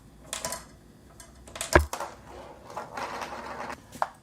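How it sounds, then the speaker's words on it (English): A small homemade coaster snare drum with its rice removed is played with a rolling marble. It gives light, faint rattling taps and clicks, with one sharper hit near the middle. "So now all the rice is gone from the snare drum,"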